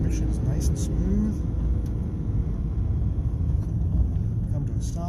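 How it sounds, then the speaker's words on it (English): A small hot hatch car's engine rumbles steadily from inside the cabin as it downshifts into third gear, a continuous low drone with smooth transmission behavior. "we're gonna downshift into probably third gear"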